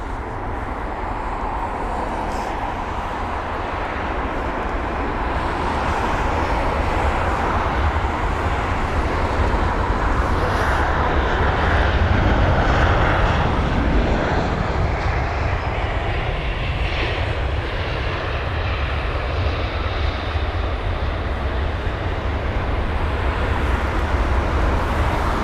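A wave of inbound aircraft landing at London Heathrow at golden hour, a continuous loud jet engine roar that builds to a peak midway and then holds as a broad rushing drone.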